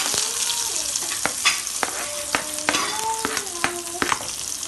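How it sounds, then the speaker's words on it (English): Chopped onions fry in hot oil, making a steady, loud sizzle punctuated by regular clicking strokes of a spatula stirring in the pan. "In the same oil, you're gonna add all the chopped onions into it."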